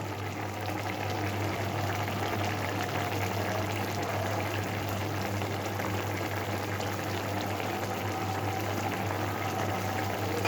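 Fish curry with pakal fish bubbling steadily in a covered pan over a gas flame, a dense, even simmering rumble that runs without a break at close range, with no voices.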